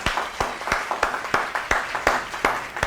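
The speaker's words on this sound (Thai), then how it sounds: "ขอเสียงปรบมือดังๆ ให้กับทิพยะประกันภัยครับ" Studio audience claps for an insurance sponsor on a Thai talk show, a regular rhythm of sharp, fairly loud group claps, about three per second, with no voices.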